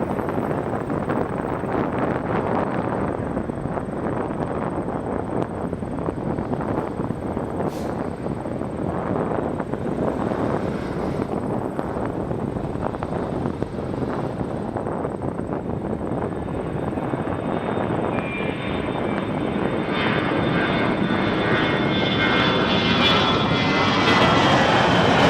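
A Boeing 737 on final approach to land on runway 24 left at Toronto Pearson airport, its jet engines a sustained, loud roar that swells and holds, with a rising whine near the end and wind noise on the microphone.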